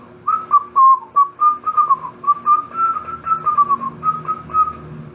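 A person whistles a short, wavering tune alone at close range, the pitched notes rising and falling in quick uneven phrases with no talking.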